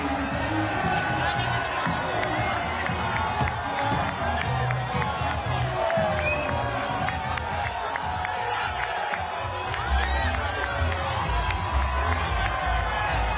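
Large crowds lining the streets at a Premier League championship parade, a steady, loud wash of cheering, shouting and scattered whoops with occasional clapping throughout.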